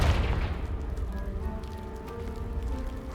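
A Confringo spell blast in the Hogwarts Legacy video game bursts open a pile of debris, a loud rumbling explosion that trails into a steady crackling, rain-like wash of falling rubble with no talking.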